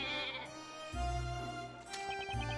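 A goat bleats in the Professor Layton vs Phoenix Wright video game, giving a wavering, drawn-out cry over game music, with a second bleat following near the end.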